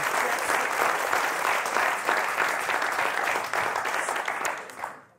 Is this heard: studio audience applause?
yes